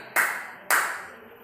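Two sharp group hand claps in a classroom ice-breaking game, close and loud, separated by about half a second, each ringing briefly before fading, with no talk over them.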